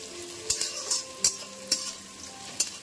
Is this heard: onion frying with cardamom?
yes